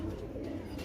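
A pigeon coos close by in a low, rolling, throaty murmur that runs steadily through the short moment with no speech over it.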